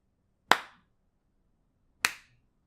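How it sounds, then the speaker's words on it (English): Two sharp, isolated hand claps spaced about a second and a half apart, crisp and close, with near silence around them and no talking. "I can't clap that fast."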